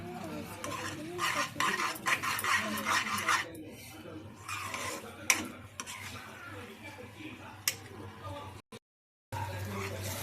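Tamarind pickle with jaggery being stirred by hand in a pot: steady scraping and mixing close up, with utensil clinks and a short break near the end, while a voice talks over the stirring.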